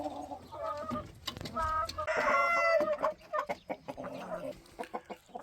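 A flock of improved Rhode Island Red-type hens clucks and squawks close by while a rooster, grandfather to the hens, crows loudly mid-flock, followed by scattered short clucks on a farm.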